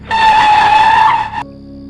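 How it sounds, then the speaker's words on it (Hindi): A car brakes hard and its tires skid in one loud, steady squeal that lasts over a second, then cuts off abruptly, leaving a low rumble. "और मैंने गाड़ी को ब्रेक मारी"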